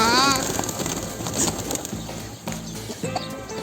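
A flock of pigeons gathers outdoors while being fed, with soft cooing and chirping and brief flutters of wings close by, amid busy ambient noise and scattered voices.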